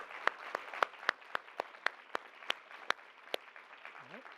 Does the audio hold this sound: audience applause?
yes